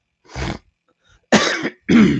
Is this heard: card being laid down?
no